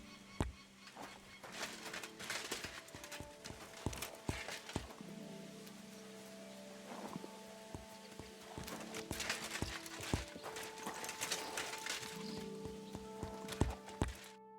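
Horse standing in a stable in Kingdom Come Deliverance 2, with repeated clip-clopping hoof steps on the floor, a soft whinny and snorts, and a faint bird call in the background, all at a low, close-up level.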